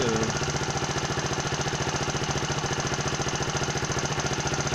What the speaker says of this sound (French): on va donner un petit coup de gaz quand même pour montrer que ça change